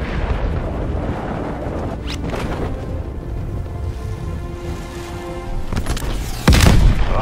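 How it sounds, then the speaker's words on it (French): Incoming artillery strike in Call of Duty Cold War, several distant booms thudding at intervals before a heavy, louder blast near the end, under constant battlefield rumble. "Frappe d'artillerie en approche."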